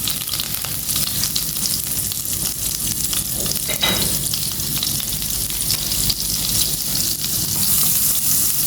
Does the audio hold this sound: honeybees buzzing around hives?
no